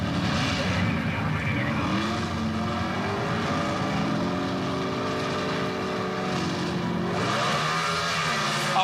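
Two 1970s Pro Stock drag cars, a Chevrolet and an AMC Hornet, roar steadily from a distance through the whole stretch, engine pitch climbing and shifting as they run, with faint commentary underneath.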